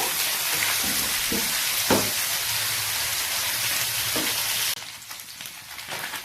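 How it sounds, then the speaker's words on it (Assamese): Chana fish sizzles steadily in hot oil, a dense crackling hiss with a few soft utensil taps, dropping to a quieter sizzle near the end. No voices. "তেলটো গৰম হোৱাৰ লগে মাছখিনি মই ঢালি দিলোঁ।"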